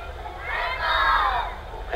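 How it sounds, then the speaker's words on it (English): A crowd of parade spectators at the Jackson County Fair cheers and shouts for a passing pee wee softball team, a swelling, fairly distant roar of voices that builds and then fades. "And they did a little cheer and got a nice little hand as a result."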